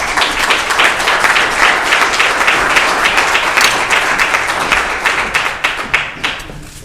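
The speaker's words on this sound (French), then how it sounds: "J'aimerais qu'on applaudisse chaleureusement Mme Denise Saint-Gelais" Warm applause from a gathered crowd at a naming ceremony for a sports centre in Saint-Jérôme, dense and continuous clapping that fades out over the last second.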